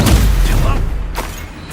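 An Expulso explosion spell goes off in Hogwarts Legacy with a loud, deep boom that tails off into a rumbling decay. A voice comes through briefly under the blast.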